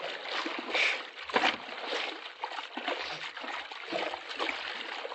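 Swimming in a pool as a radio drama effect: water splashes and paddles in uneven strokes, moderately close, with soft trickles between them and no talking.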